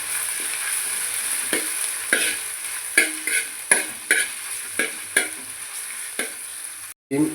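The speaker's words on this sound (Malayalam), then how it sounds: "കറിവേപ്പില വാടി വന്നപ്പോഴേക്കും ഇഞ്ചി വെളുത്തുള്ളി അതിനിളക്കി കൊടുക്കാം" Curry leaves, ginger and garlic stir-frying in coconut oil: a steady sizzle broken by regular scraping stirs roughly every half second to second, no voices, ending with a brief cut.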